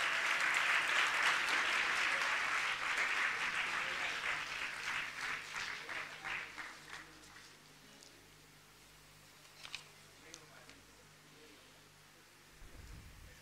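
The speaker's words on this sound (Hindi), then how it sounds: "लगातार तालियां बजती रहें" Audience applause for a Delhi government school band and orchestra performance fills the opening seconds with dense, loud clapping, then thins into scattered claps and fades to near quiet by the end.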